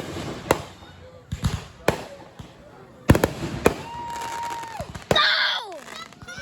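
Fireworks going off nearby: several sharp booms and crackling bursts at irregular intervals, a whistling rocket rising, with excited voices shouting between the blasts.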